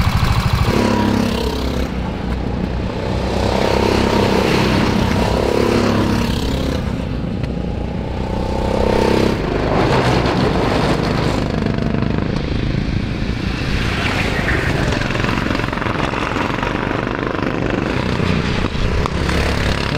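A Tillotson T4 racing kart engine runs on a kart track with a steady, loud, buzzing drone that swells and fades slightly across about twenty seconds, with no voices.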